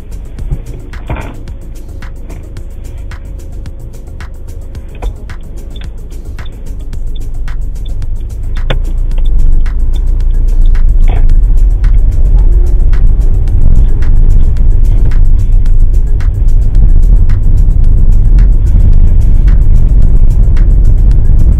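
A learner's car pulls away at the start of a mock driving test: low engine rumble building from idle into a steady, louder road drone after several seconds, with faint clicks early on and no talk.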